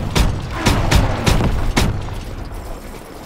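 Heavy, booming gunshots in the World War II shooter Call of Duty WWII, about five loud, evenly spaced blasts close by, then the firing stops and a quieter din remains.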